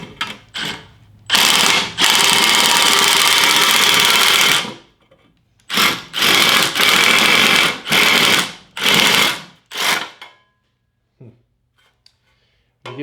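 A DeWalt shear attachment on a cordless drill chews through sheet metal in repeated loud bursts, one long run then several shorter stop-start cuts, each with a rough mechanical chatter, before falling quiet.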